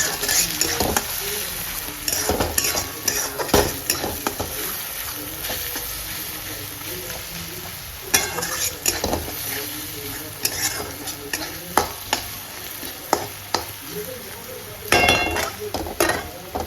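Spoon stirring a tomato, turmeric and chilli masala in a pan for a home Bengali breakfast, with repeated scraping and clinking strokes over a soft continuous sizzle, close and moderately loud, no talking.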